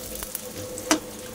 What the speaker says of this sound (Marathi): खोबरं पण चांगलं लालसर